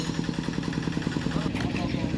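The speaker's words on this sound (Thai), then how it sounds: "ไทยบ้านเพิ่นขับรถไถมาแล้ว" A farm tractor's engine chugs with a steady low mechanical pulse as it approaches along a village road being repaired, and a person talks over it.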